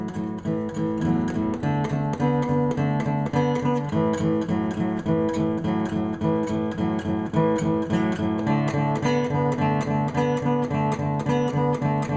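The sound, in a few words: guitar rhythm vamp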